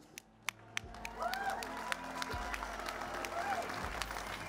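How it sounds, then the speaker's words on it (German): Sustained audience applause fills a hall, steady and moderately distant, with scattered sharper claps rising above the wash and a low background hum. "Ein lang anhaltender Beifall war die spontane Antwort des Publikums."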